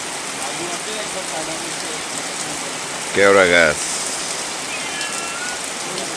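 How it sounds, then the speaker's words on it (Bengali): Heavy monsoon rain falls in the Sundarbans forest with a dense, steady hiss of drops on surfaces, continuing unbroken while a voice briefly speaks in the middle. "এর মধ্যেই একটু পরপর নামছে ঝুম বৃষ্টি।"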